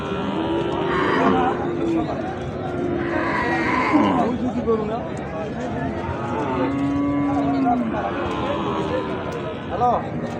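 Cattle low repeatedly at the Ambari cattle market, with drawn-out moos rising over a steady crowd murmur while people talk and haggle nearby.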